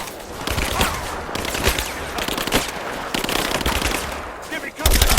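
Machine guns laying down suppressing fire in Rise of the Tomb Raider, a loud, close, continuous crackle of automatic bursts with sharp individual cracks poking through for the whole stretch.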